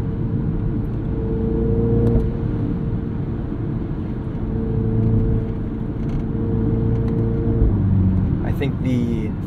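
A 2021 Mini Countryman John Cooper Works accelerates hard with a steady, droning engine and road roar heard from inside the cabin. The engine pitch holds and rises, then shifts near the end.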